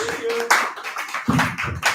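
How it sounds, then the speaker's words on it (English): Brief, sparse clapping from an audience welcoming a performer to the stage at a comedic sermon-style show, a few uneven bursts of hand claps over about two seconds. "Give him a round of applause."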